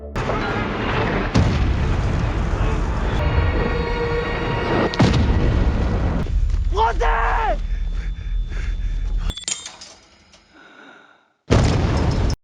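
Artillery explosions in a film: heavy booms and rumbling blasts roll through a dense, loud soundtrack, broken by a sudden quiet stretch before another burst of noise.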